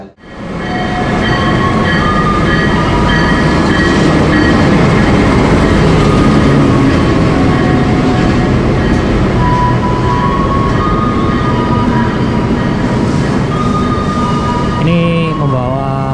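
A passenger train rolls through Tasikmalaya station in Indonesia, a loud, sustained roar with rhythmic clatter and metallic tonal squeals from wheels, ending in a sliding screech near the close.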